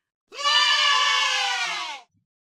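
A single loud, drawn-out sheep bleat, close and clear, lasting under two seconds before silence.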